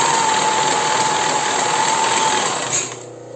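A sewing machine stitches elastic onto a bra, lace on one side and lining on the other, running in a steady, fast mechanical whir for almost three seconds before it slows and stops.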